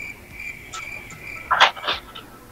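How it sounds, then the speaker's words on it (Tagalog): Crickets keep up a thin, steady high chirp in the background, while louder brief calls stand out near the middle of the short clip, with no talking. "Bakit ho bigla hong nagising yung mga kuliglig"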